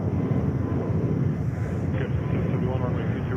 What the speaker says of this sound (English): ANA 777-300 coming in from Tokyo Narita, winning the race today.